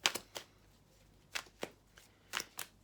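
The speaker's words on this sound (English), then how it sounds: "I'm going to reshuffle." A deck of tarot cards being reshuffled by hand, giving several quick riffling bursts spaced unevenly across a few seconds, close and fairly soft, with no talking.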